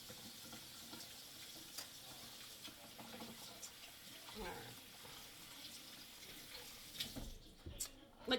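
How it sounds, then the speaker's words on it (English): Water runs from a kitchen tap into the sink while hands are washed during cooking, a steady splashing hiss with small clatters, louder bursts near the end. "I gotta wash my hands"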